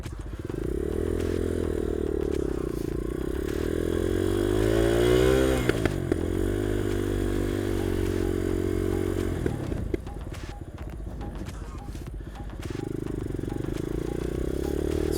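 Dirt bike engine running at idle, a steady low throbbing drone that swells and dips as it is revved, with rattling clatter and a few metallic knocks, close by.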